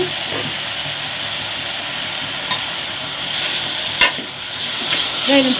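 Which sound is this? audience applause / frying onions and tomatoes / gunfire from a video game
frying onions and tomatoes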